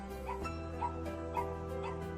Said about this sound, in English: This dog is barking.